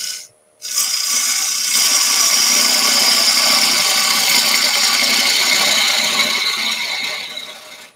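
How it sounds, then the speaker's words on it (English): A bowl gouge cuts a rough-turned wooden bowl spinning on a lathe, producing a continuous, fairly loud hissing scrape that starts abruptly, holds steady for several seconds, then fades. "using the bottom edge of the bowl gouge, almost like a skew, and you get these lovely little shavings come off"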